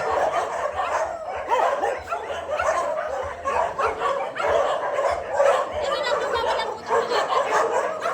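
Several dogs at an animal shelter in Bulacan bark, yip and whimper continuously and close by, with people talking among the noise.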